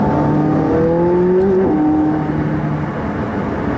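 A McLaren 675LT engine holding steady in third gear, with a continuous loud drone whose pitch rises and then dips around a gear change, close and with no talk over it.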